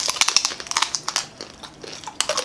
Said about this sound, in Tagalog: Unang kagat po para sa inyo.